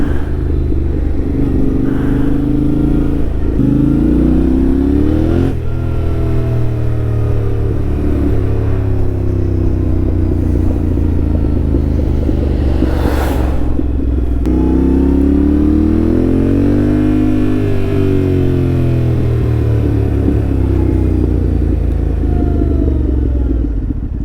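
A 2024 Yamaha Ténéré 700 A2 motorcycle, close and loud, accelerating through the gears with rising and falling engine pitch sweeps and gear changes, steady rumbling throughout with wind noise.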